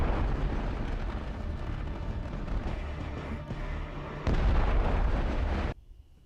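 Heavy weapons fire in a space battle from The Expanse, a dense roaring barrage of blasts and rumbling explosions, loud and continuous, with a sharper burst late before cutting off.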